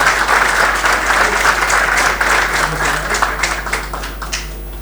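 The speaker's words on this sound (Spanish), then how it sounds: "un aplauso para Adriano." A crowd applauds the speaker Adriano after a talk on adjuvants for pesticide efficiency, with loud, close clapping that stays steady before fading out near the end.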